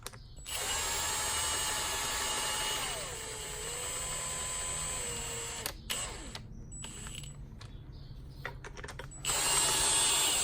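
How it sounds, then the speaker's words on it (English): A power tool whines steadily, pitch dipping under load, while tightening bolts on a harmonic balancer puller during a 350 engine teardown, then stops and restarts in short bursts close up. "Tighten all these bolts."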